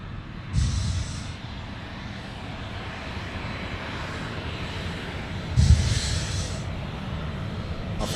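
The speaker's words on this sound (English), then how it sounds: "we've got the 787 rolling here" A Boeing 787 jet rolling for takeoff on runway 34 left at Sydney Airport, a steady distant engine roar with two brief louder swells, heard from a spotting position.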